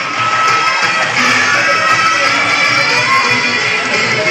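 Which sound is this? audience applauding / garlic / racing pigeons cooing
audience applauding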